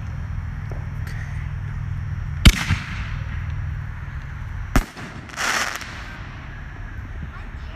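Small consumer fireworks set off at an outdoor pre-July 4th backyard celebration: two sharp loud bangs a couple of seconds apart followed by a hissing burst, over steady background noise and faint voices.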